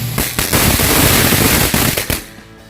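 Firecrackers go off in a dense, loud, crackling string of rapid pops and bangs close by, fading out near the end.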